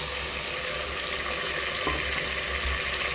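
Chicken pieces sizzle in a pan for haleem with a steady, dense hiss of frying, a faint low hum underneath and a soft scrape or two, close and unbroken.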